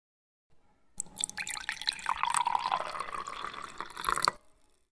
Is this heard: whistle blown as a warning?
no